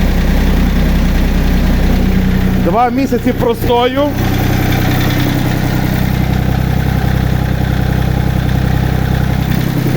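An Iseki TA 235 compact tractor idles steadily after a cold start, following two months of sitting unused. The close, low engine hum runs throughout while someone speaks briefly over it.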